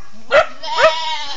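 A goat bleats twice at close range, two loud, wavering, nasal cries about half a second apart, with a faint low hum underneath.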